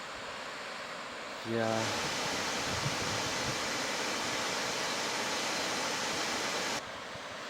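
Steady broadband rushing of a big waterfall at a rainy campsite, loud and continuous for several seconds, after someone speaks briefly at the start.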